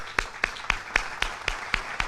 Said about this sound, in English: big round of applause to the Malaysian Pediatric Association